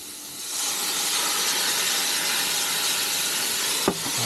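Beef and stir-fry sauce sizzling on an induction cooktop inside an Airstream motorhome, a steady close hiss that holds throughout with one brief knock near the end.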